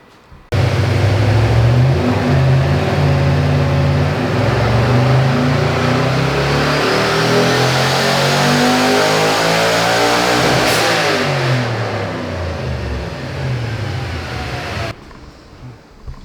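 A twin turbo LS-swapped Honda S2000 revs loudly for about fourteen seconds, the engine climbing and falling in pitch with sustained throttle before cutting off abruptly, no talk over it.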